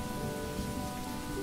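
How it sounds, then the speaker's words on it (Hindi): Heavy rain falls steadily with a low rumble of thunder underneath, a dense, even wash of sound with no voices. "तूफान की घन गरज को भी सुनकर"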